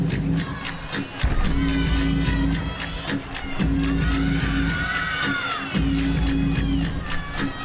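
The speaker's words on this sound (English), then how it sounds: "Teammates in the back cheering her on." A gymnastics team's teammates cheer loudly from the back during a college floor routine at a Florida at Kentucky meet, with sustained crowd shouting and whoops that rise and fall in waves throughout.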